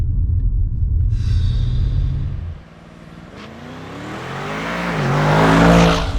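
An Audi S8's powerful engine revs and roars as it accelerates hard, its pitch climbing through gear changes, loud and close throughout.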